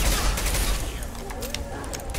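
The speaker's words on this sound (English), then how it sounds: "This is the machine gun again." Rapid machine gun fire in a video game, a quick rattling burst of shots layered with game noise and a voice speaking over it.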